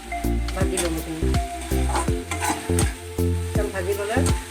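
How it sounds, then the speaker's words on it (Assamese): Spices with turmeric frying for a paneer curry crackle loudly in a pan while a spatula scrapes and stirs in a steady rhythm, close up, with faint background murmur. "মই এতিয়া এইখিনি অকণমান সময় ভাজি ল'ম।"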